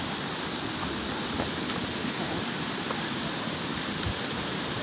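Cold mountain water pours steadily from a long pipe into a pool, a continuous broadband rushing splash that stays even and fairly close throughout, with no voices.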